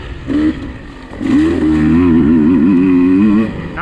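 Dirt bike engine on a wooded track, ridden a gear up, revving loudly with rising and falling pitch as the rider accelerates, close and continuous.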